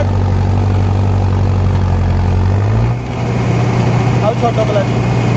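A tractor engine drones steadily and loudly up close, its pitch shifting partway through as the clutch is worked, with voices over the constant rumble.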